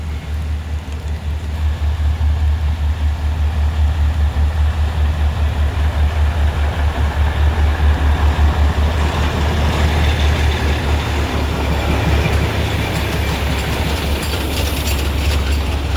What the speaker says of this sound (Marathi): फायनली ट्रेन दिसली आहे फ्रेंड्स